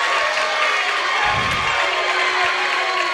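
Spectators at a high school basketball tournament game react to an offensive foul call with a sustained wash of crowd noise, cheers rising from one side while the other grumbles, steady and loud throughout.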